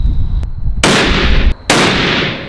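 Two sharp, loud shots from a 300 Win Mag rifle firing Hornady ELD 200-grain bullets at a range, each a close crack with a long ringing decay, over a faint background hum.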